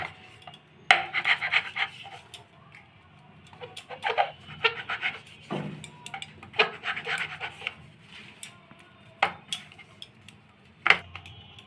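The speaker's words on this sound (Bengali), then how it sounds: "ডোটা ভালোভাবে মথে নিয়েছি এখন ভাগ করে নিব এই চাকুর সাহায্যে চারটা ভাগ করে নিব" A knife cuts kneaded dough into four portions on a wooden board, giving soft, scattered taps, clicks and scrapes of moderate loudness at close range.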